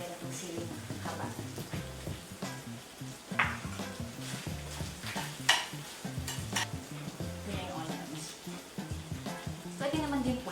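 Spices and long chilies are stirred while frying in a pan, with a continuous close sizzle under repeated scraping and tapping of the utensil against the pan and a few louder metallic knocks.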